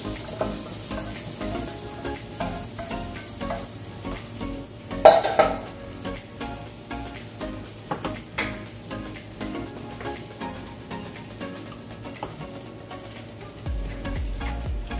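Potatoes frying in a pan, a steady close sizzle with repeated scraping and stirring strokes and a few louder clanks of a spatula, with no voices.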